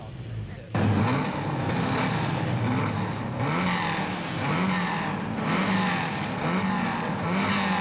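Saloon cars race on a windy, rain-swept track in a British Saloon Car Championship round, their engines rising and falling in repeated revving passes while a narrator talks over them.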